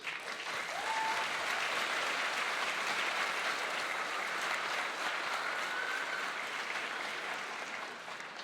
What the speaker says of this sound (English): I'd like to have you have a round of applause for two special groups.